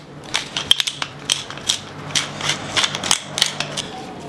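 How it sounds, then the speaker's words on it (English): A pepper mill cracks fresh black pepper over a prime rib roast, giving a close, rapid series of crunchy, ratcheting grinding clicks in an uneven rhythm. "Some more fresh black pepper. This stuff smells amazing when you freshly crack it."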